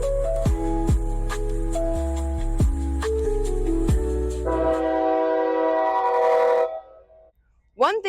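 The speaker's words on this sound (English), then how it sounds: "One thing I loved about Pembroke was the train." A train passing through Pembroke sounds its horn in several loud, long blasts, some dropping in pitch, before the tone cuts off and a short sweeping chirp follows.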